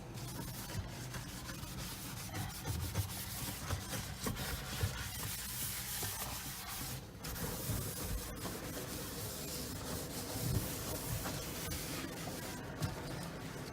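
A kitchen sink drain is scrubbed with a continuous, close, gritty rubbing that runs for over ten seconds at a fairly even level, with small uneven surges and no voices.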